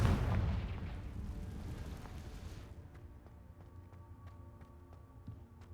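A Confringo fire-blast spell cast in Hogwarts Legacy, a deep rumbling explosive burst at the start that decays over a few seconds into quiet game ambience with faint clicks.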